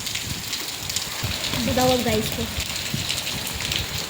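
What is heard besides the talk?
rain falling outside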